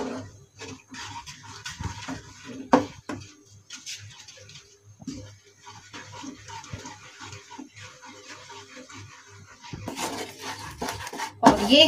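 Milk powder is stirred into milk in a metal pan, with a spoon clinking and scraping against the pan in irregular, close taps and swishes over a quiet background.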